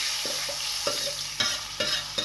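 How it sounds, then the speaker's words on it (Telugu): Hot tempering is poured and stirred into raw tamarind soup (pachi pulusu), giving several short bursts of sizzling and clattering stirring, close up, with no talk. "వేగిపోయింది మనం ఇప్పుడు పులుసులో వేసుకుందాము"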